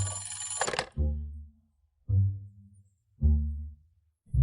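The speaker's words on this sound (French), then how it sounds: "je viens à peine de rentrer, et le téléphone sonne déjà." An old-style telephone bell rings in loud, repeated bursts, three full rings spaced about a second apart after an opening electronic tone, close and with no talk.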